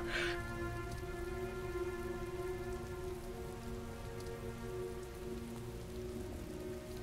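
Heavy rain falls steadily in the video game Heavy Rain, a dense, even hiss of drops on surfaces with a faint low rumble underneath, continuous and fairly quiet throughout with no talking.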